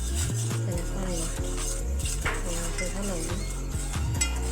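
Spoon stirring Maggi noodles and masala in water in a pot on a gas stove, with light scraping and a few soft clinks under steady background music.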